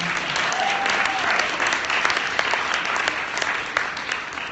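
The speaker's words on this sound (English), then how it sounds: "give yourselves a round of applause for being here on a Saturday" A crowd applauds steadily, dense clapping sustained at an even level throughout.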